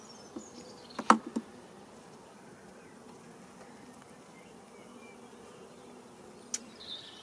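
Honeybees hum faintly and steadily around an open hive during a spring apiary inspection, with a few brief louder clicks and knocks from handling the frames against the low background drone.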